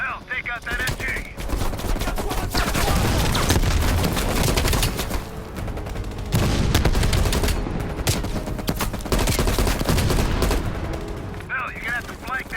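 Sustained machine-gun fire in a Call of Duty: Black Ops Cold War campaign battle, loud dense bursts with heavy booms filling the scene, briefly easing near the middle before rattling on, with faint voices mixed under the gunfire.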